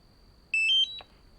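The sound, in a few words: beep from DJI Mini 4K drone controller starting up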